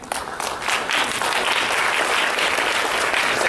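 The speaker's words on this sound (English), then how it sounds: "now you get the clapping stuff down" Audience applause closes the formal program of a 2018 mental health awareness event in Prince William County, a steady, dense wash of clapping from a crowd indoors, loud and continuous throughout.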